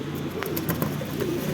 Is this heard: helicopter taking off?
no